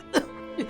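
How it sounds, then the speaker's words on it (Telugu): Two short, sharp coughs from a student in a classroom, the first louder and the second following about half a second later. "ఉన్నట్టుండి దగ్గు తుమ్ములు వస్తున్నాయి."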